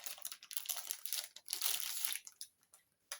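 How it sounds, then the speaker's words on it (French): Crinkling and rustling of plastic packaging on Gorjuss scrapbooking supplies being handled and pulled open, close up, in irregular bursts that fade to a few scattered crackles. "ça va faire du bruit parce que j'ai rien déballé du tout"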